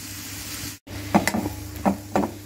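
Bread pakora mixture being stirred and fried in a pan: a steady sizzle with several scraping strokes of a spoon against the pan, close by.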